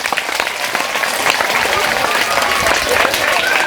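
Audience applause fills a school parent-teacher meeting held on Children's Day at a government primary school: dense, steady clapping from many hands, close and sustained throughout.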